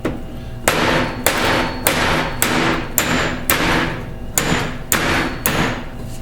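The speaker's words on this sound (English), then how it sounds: "we're going to try to knock out this roll pin" A hammer knocks out a roll pin on a Dana 44 TTB front differential from a Ford F150, giving nine sharp metallic strikes in a steady rhythm, close and loud, with brief ringing decay after each blow.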